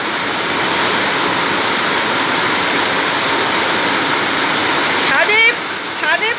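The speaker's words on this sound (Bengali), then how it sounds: "ছাদে ছাদে পুরোপুরি বন্যা হয়ে গেছে, জল ঝমঝম করছে" Torrential rain pours onto a flooded rooftop, a loud, steady rushing roar of water like a cascade, continuous throughout, with a few brief chirpy sounds near the end.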